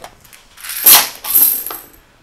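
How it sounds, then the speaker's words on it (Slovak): Metal coins made for board games drop and clink together in a short, bright jingle with a louder clatter in the middle, close by and with no talking. "Tie kovové mince majú samozrejme úplne iný zvuk"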